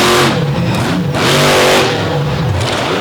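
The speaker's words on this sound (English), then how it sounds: "Huge launch out into the grass." A race car at a drag racing event making a huge launch that runs off into the grass, its engine roaring loud and close as it revs up and down in surges for about three seconds.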